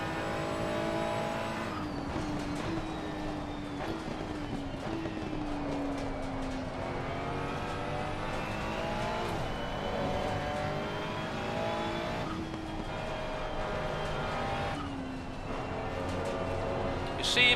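Race car engine in Assetto Corsa Competizione during a GT World Challenge lap, revving hard and loud with rising pitch sweeps through the gears, brief lifts and downshifts, sustained for most of the run, with occasional talk.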